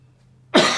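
After a brief low hum, a single sharp, loud cough bursts out close to the microphone and trails off.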